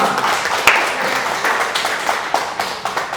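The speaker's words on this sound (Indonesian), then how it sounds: "kita beri aplaus untuk Bapak Ibu semua" Audience at a seminar clapping, a moderate steady patter of applause with a few sharper individual claps standing out, lasting the whole moment.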